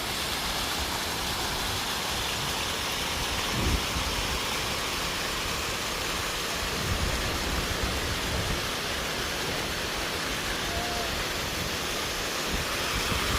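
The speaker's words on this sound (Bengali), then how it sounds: "দেখি উপরে কেমনে পানি নামে।" Waterfall on a mountain hike, water rushing down in a constant loud, broadband roar that stays even from start to finish, with a few faint low bumps and no talk.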